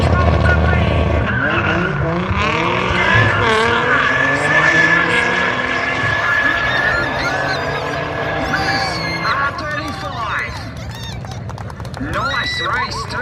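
Race cars launch side by side at a GTR Festival drag race, engines roaring loud and continuous with tyre squeal over crowd noise and a commentator's voice throughout.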